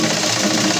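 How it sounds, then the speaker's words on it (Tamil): A sewing machine runs steadily, stitching along the folded edge of a saree, a continuous close whirring hum without pauses. "இன்னொரு மடிப்பு மடித்து இந்த ஓரத்தில் அப்படியே ஸ்டிச் பண்ணிடுவோம்."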